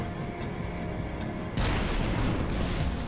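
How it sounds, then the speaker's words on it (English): A rocket launcher explosion in Halo: Reach campaign combat: one heavy, loud boom bursts in partway through and then a dense rumbling roar carries on, with no voices. "I have a rocket launcher"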